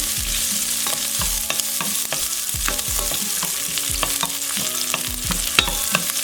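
Shrimp and onion sizzle steadily in a frying pan on low heat while a utensil stirs them, scraping and clicking in an irregular rhythm, close and continuous for the whole stretch with no talking.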